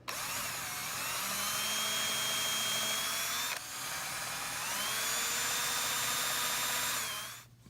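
A power drill whines steadily while boring pilot holes for screws into a broken chair, one long run that dips briefly midway and then resumes before stopping.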